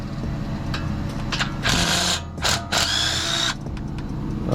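A cordless impact tool spins out 10mm bolts from the upper control arm and spindle of a 2007 Chevy Silverado during a leveling kit install, giving a loud, continuous mechanical whir with several sharp bursts of hammering rattle.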